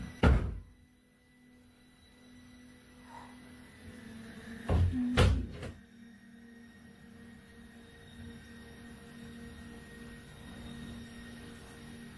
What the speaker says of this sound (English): the kitchen door suddenly flying open with a loud bang that echoed through the house